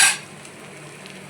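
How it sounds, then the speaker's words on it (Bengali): Tomato paste made from five small tomatoes hits onions already fried in a pan, with a brief loud burst that settles into a soft, steady sizzle. "যতক্ষণ না টমেটোর এখানে কাঁচা গন্ধটা যাচ্ছে ততক্ষণ আমি এটাকে ফ্রাই করে নেব।"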